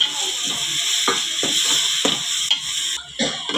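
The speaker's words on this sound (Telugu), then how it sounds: "బాగా వేగిన తర్వాత టమాటా పేస్ట్ వేసుకోవాలి ఇప్పుడు బాగా వేయించుకుందాం" Tomato paste fries in a pan with a constant sizzling hiss, broken by a string of scraping, clicking stirs at irregular intervals.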